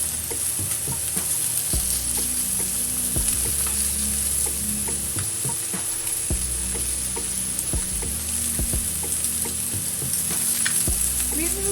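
Chicken sizzling in oil on a Vinchef non-stick grill, cooked Pollo Loco style: a loud continuous close sizzle with occasional scraping and shifting sounds, no one talking.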